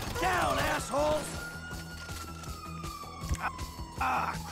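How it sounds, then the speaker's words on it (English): Ambulance siren in the video game Grand Theft Auto V, a steady gliding wail heard among gunfire, crashes and engine rumble while characters shout over it. "it's the ambulance!"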